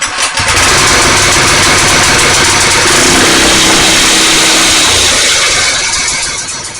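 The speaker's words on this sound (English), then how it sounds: "Let's see if the torque converter does torque converting and if the engine runs" A small go-kart engine with a torque converter cranks and catches, then runs loudly and steadily with a rough, buzzing drone close by.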